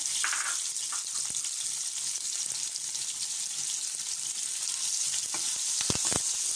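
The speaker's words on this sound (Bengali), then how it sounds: "এবার এটা একটু ভেজে নিচ্ছি" Chopped onion, green chili and garlic fry in hot oil, giving a steady close sizzle throughout, with a few sharp stirring clicks and crackles near the end and no speech.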